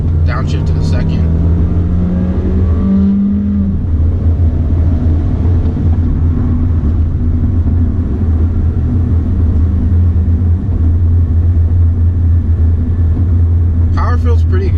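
A 2016 Volkswagen Jetta SE TSI with a turbocharged engine accelerates, a deep steady engine drone with a rising tone early on, then a continuous rumble as the revs climb, with a voice talking over it.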